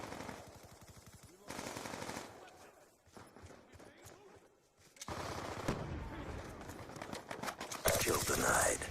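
Rapid automatic fire from the Vector K10 submachine gun in the video game Black Ops 2, in sharp rattling bursts separated by brief pauses and quieter stretches, with some game voice and sound effects mixed in.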